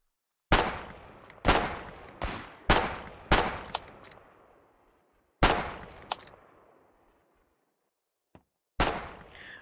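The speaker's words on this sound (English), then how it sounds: "More gunshots can be heard elsewhere" Gunfire in the war game Foxhole, a series of about eight single sharp shots, some close together and others spaced out, each with a long echoing tail, loud and near, with no talk.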